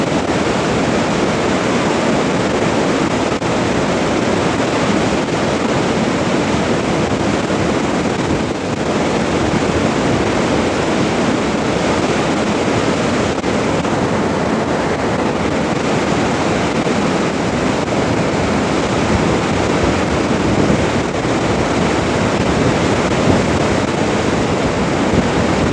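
Ganga river rushing at Gangotri, a dense, steady roar of fast water filling the scene for the whole stretch, loud and unbroken, with occasional wind buffeting and no voices.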